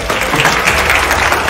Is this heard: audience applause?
yes